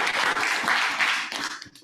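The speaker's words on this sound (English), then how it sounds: "Guys, can we get one more round of applause for Mr. Eric Carroll?" A seminar audience applauds a presenter at a real estate listing masterclass, a dense burst of many hands clapping at once that stays steady, then thins and fades toward the end.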